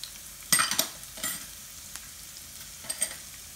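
An oats mixture with chopped carrot is stirred in a pan over low heat, with a quiet sizzle and a few scraping clinks of the spoon against the pan in short clusters, and no talking.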